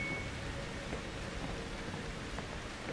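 Blood rain falling in the horror game Outlast 2, a faint, even patter of steady rainfall with no other sounds over it.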